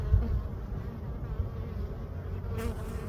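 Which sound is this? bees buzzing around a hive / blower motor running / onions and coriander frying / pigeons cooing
bees buzzing around a hive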